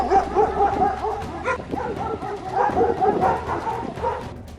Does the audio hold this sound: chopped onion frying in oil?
no